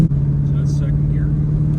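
A 1989 Chevrolet Corvette with a misfire accelerates through the gears, its engine a steady loud hum from inside the car while someone talks over it.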